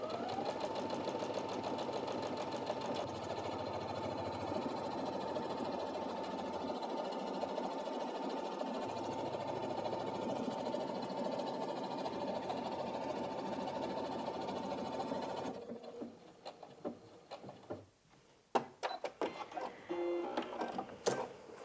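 A Brother Inventio NV1350 sewing machine stitches a buttonhole, a steady fast mechanical whir for about fifteen seconds, then stops and is followed by scattered clicks and handling taps.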